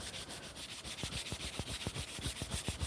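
Hand sanding with a fresh piece of sandpaper produces a quick run of close, rhythmic abrasive rubbing strokes, soft but steady and heard alone without talking.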